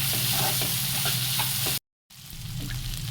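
Vegetable momo stuffing is stirred in a hot pan, a dense sizzle with scraping strokes, cut by a short silent gap before the frying resumes.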